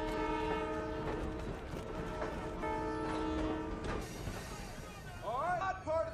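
A train rumbles steadily nearby while its horn sounds in long, sustained blasts. The train noise continues throughout, loud and close, with voices faintly beneath.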